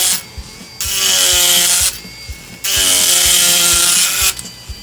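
A tungsten carbide power carving tool bites into wood in two long, loud bursts of high whining grind, separated by short pauses where the motor idles with faint tapping.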